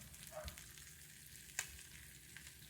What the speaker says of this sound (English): watching bacon cook is very boring